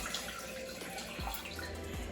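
Water poured into a pan in a home kitchen, a soft trickling splash with small drips and a few light knocks, close and fairly quiet.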